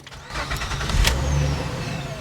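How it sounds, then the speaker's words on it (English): A car engine cranks and fires up in the engine bay, then settles into a steady running hum with a faint whine, close and fairly loud throughout. "In the engine bay, so we're going to go ahead and start it."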